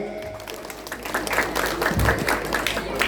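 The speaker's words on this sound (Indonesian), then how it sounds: "Pengiringnya Elbas, ya, tepuk tangan juga." Applause for the accompanying musicians at a mosque gathering, a lively, close wash of clapping from a crowd that swells slightly and continues steadily, with faint voices underneath.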